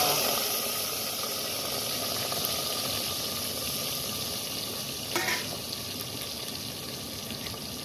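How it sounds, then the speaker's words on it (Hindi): Onions fry in a pot for a vegetable curry, giving a loud, continuous close hiss and sizzle that barely changes throughout, with a brief faint knock midway. "हमारा सब्जी बन रहा है। अभी मटेरियल तैयार हो रहा है।"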